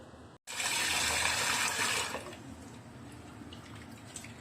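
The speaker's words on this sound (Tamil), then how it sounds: "இந்த அரிசி சிறுபருப்பு சேர்ந்ததை நாம ஒரு 3 முறை நல்லா வாஷ் பண்ணி எடுத்துக்கணும்." Kodo millet rice and moong dal being rinsed in water: a strong, steady gush of water fills the first half, then eases to a softer, continuous trickle with light sloshing and drips, heard alone with no talking.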